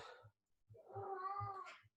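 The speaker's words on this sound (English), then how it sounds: "that's my cat meowing" A pet cat meows up close in two drawn-out, rising cries separated by a short pause, fairly quiet overall, with soft thumps underneath.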